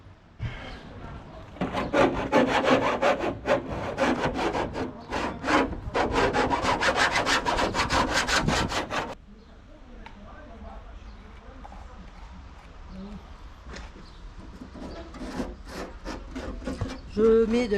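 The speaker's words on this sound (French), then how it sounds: "Bon, maintenant il faut limer." Hand filing of metal, likely on a camper van during window fitting, as a steady run of rhythmic rasping strokes, loud and close for several seconds, then quieter scraping and handling.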